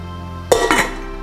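A pot lid clanks and scrapes once against a metal pot, a short close metallic clatter with a ringing tail, heard over a faint steady hum.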